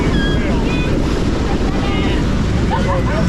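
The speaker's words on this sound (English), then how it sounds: "Here comes a wave, are you ready?" Loud ocean waves and strong wind buffet the microphone aboard a boat at sea off Cape Town, South Africa, with a steady roar of surf and gusts throughout and faint, brief calls in the background.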